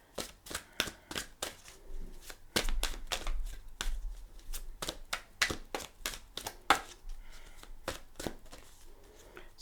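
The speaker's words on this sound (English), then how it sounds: "I'm even shuffling the cards like this because it's not the normal way I do with the Oracle." Oracle cards are shuffled by hand in a rapid run of crisp riffling snaps and soft papery slides, close and fairly quiet, with no talking.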